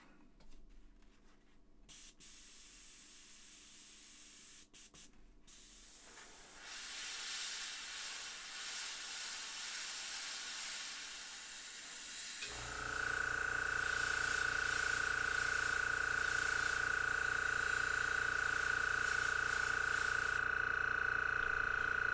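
An airbrush sprays paint in a steady, close hiss that grows louder and brighter partway through, with a thin whistling tone riding on the spray.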